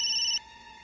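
A mobile phone rings with a steady electronic tone that stops abruptly about a third of the way in, leaving a faint hum.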